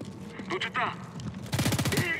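SMG fire in Homefront The Revolution, with a few scattered shots, then a rapid, close burst of about ten rounds in quick rhythm near the end.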